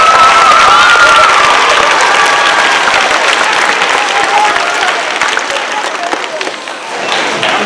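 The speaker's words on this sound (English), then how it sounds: "Let's give her a round of applause." Students at an elementary school teacher-of-the-year ceremony give a loud, sustained round of applause for their teacher, with crowd noise throughout that eases slightly toward the end.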